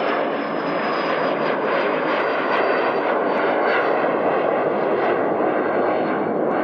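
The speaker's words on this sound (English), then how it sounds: "Oh, this jet's just gone on." A jet airliner rolls and climbs away from Manchester Airport, its engine roar loud, broad and steady throughout with a thin high whine riding on top, no voices over it.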